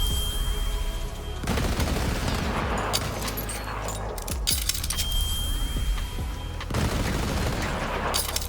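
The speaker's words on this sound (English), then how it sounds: "you hold down the trigger, let it go, and it fires out all the bullets" A legendary gun in Borderlands 3 fires repeated rapid bursts, each a dense clatter of shots with metallic ringing and brief pauses between volleys, loud and close.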